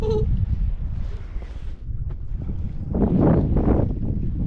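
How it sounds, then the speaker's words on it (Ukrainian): Wind buffets the microphone with a continuous low rumble, swelling in gusts toward the end. "Вітер трохи дує."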